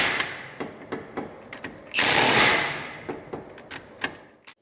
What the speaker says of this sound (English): I take my impact and I drive it until I don't have this in and out play anymore